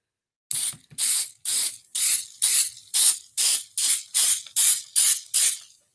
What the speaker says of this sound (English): So I can be more precise in where I'm spraying it.